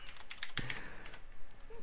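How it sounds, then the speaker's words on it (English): Clicky typing on a loud computer keyboard, a quick irregular run of sharp close keystrokes in bursts, with no talking. "if you can hear the typing, I apologize. I got a loud keyboard."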